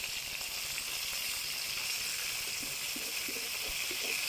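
Fish frying in a pan give off a steady, soft sizzling hiss, with a few faint clinks as the pieces are turned over.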